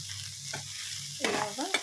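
Bitter gourd slices fry with chili powder in a pan over low flame, a soft continuous sizzle broken by a few scraping stirs near the end, with no talking.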